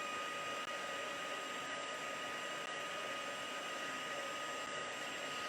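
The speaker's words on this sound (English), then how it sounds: "Now you just just use your heat gun to give this a bit of a blast." Heat gun blasting hot air over embossing paste on a butterfly papercraft project, a steady, loud, even broadband whoosh that runs unbroken for the whole stretch with no talking.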